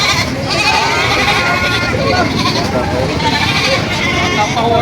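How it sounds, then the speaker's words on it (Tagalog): Goats at a livestock farm market bleat repeatedly amid a busy crowd, with people talking loudly over the animals throughout. "Ayan o, may bagong dating na kambing."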